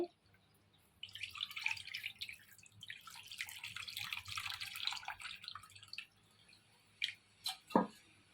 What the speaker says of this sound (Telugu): కలిపిన తర్వాత చింతపండు పులుసు పోసుకోండి